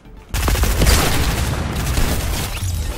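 Dense, loud bursts of gunfire from a Fortnite match kick in after a brief quiet moment, rattling continuously like a sustained firefight with booming shots layered together.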